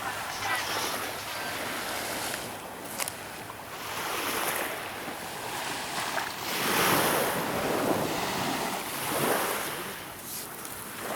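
Sea waves wash onto a beach in a steady, loud roar with rising and falling surges, mixed with gusty wind noise on the microphone and no one talking.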